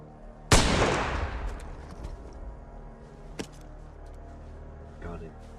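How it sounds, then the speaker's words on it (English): A World War gunshot cracks loudly up close and rings out in a long decaying echo, followed a few seconds later by a second, sharper but fainter shot amid quiet background. "More shots being fired"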